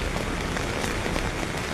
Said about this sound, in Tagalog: Baklay-baklay pa ko sa ulan.